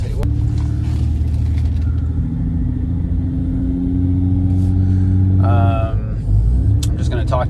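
A 1995 Toyota Land Cruiser FZJ80 driving along, its steady engine and road rumble filling the cabin with a low continuous drone while people talk over it throughout.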